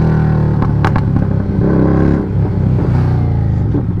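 Kawasaki-type 750 motorcycle exhaust, loud and close, revving with throttle blips after a downshift, sharp pops and crackles breaking through the steady engine roar.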